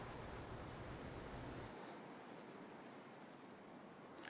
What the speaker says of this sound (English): the waves are pounding hard right now as the tide is coming up here on the Isla Vista coastline